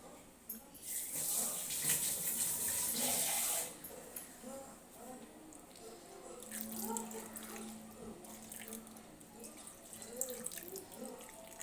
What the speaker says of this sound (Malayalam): ഇച്ചിരി വെള്ളം അത് കഴുകി ഒഴിക്കുവാണേ